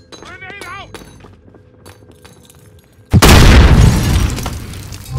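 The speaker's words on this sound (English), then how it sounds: "Grenade out!" In a multiplayer shooter game, a sudden loud grenade blast bursts in about three seconds in, following quieter footsteps and clinks, then rumbles and fades with debris noise.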